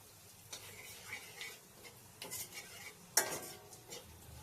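Whole cumin seeds fry in oil for tempering. A quiet, faint crackle sits under scattered light taps and scrapes of a stirring spoon, with one sharper clink near the end.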